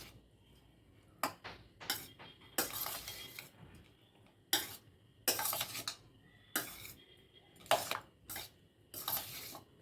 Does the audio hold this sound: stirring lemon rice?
yes